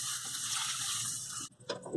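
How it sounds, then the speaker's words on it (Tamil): Water pours steadily into ground tomato for snake gourd thokku, a continuous close splashing rush that breaks off briefly near the end before a final gush. "இது கூட கொஞ்சமாக தண்ணி சேர்த்துக்கலாம்."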